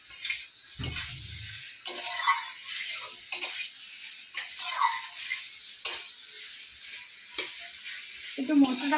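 Spices and vegetables, with pre-boiled potato, fried and stirred together in a pan for a curry: a steady sizzle under repeated spatula scrapes, with a brief low murmur near the start.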